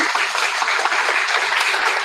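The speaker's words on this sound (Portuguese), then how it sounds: "Uma salva de palmas para o Dixon." A crowd claps steadily for a couple of seconds, a dense patter of many hands at close range.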